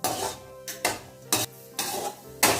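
Cashew nuts frying in hot ghee in a pan for poha jaggery laddu, with repeated metal spoon scrapes and stirring clatters in bursts over a steady sizzle.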